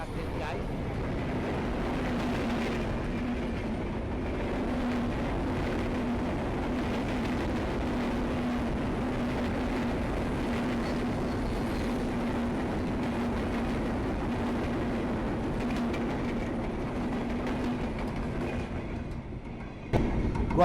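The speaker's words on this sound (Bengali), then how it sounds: "প্রতিদিন এভাবে ট্রেন আসে আর ট্রেন চলে যায়" A train rumbles past a small station steadily for the whole stretch, a continuous low roar with faint rhythmic clatter, fairly close, ending with a sudden bump.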